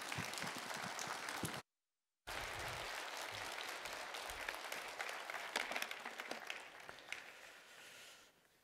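A church congregation applauds to welcome a visiting pastor at a year-end prayer meeting, a dense, steady wash of clapping from a large crowd that breaks off briefly into silence, then resumes and slowly thins out.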